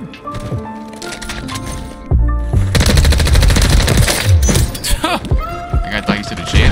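Rapid MCW rifle fire in a Nuke map shooter match, loud sustained automatic bursts with a fast rattling rhythm, a player talking over and between the shots.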